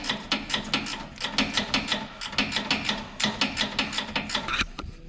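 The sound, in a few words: gear wrench backing off 15 mm sway bar bushing bolts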